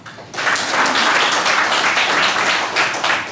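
Attendees at a business association board meeting applaud to approve a motion. Fairly loud clapping from a modest group starts abruptly and carries on steadily with a slight pulsing rhythm.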